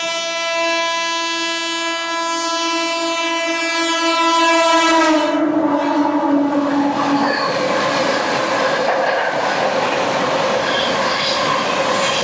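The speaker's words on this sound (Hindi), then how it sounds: "130 से निकल रही है ट्रेन।" The Magadh Express horn blares with a long, steady, loud tone while the train runs at about 130 km/h. The horn then cuts off and leaves a loud rushing, rattling roar of wheels and wagons.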